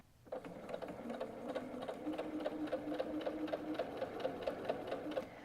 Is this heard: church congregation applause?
no